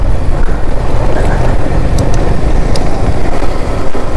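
Engines of motorcycles moving out together on a group bike ride in Kerala, a loud, steady mix of motor drone and wind rush, heard close and continuous with no talking.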